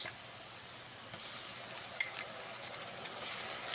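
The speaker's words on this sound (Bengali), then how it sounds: "এবারে এর মধ্যে দিয়ে দিতে হবে আদা রসুনের পেস্ট তিন চামচ" Ginger-garlic paste fries in oil with browned onions, giving a soft, steady sizzle with faint scraping stirs and one small clink near the middle.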